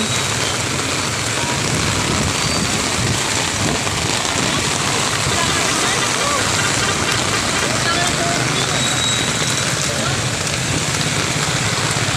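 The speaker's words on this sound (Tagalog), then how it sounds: "malakas pong ulan dito ngayon" Steady, dense rain roars without pause, a thick broadband hiss with fine drumming on surfaces, loud and constant throughout.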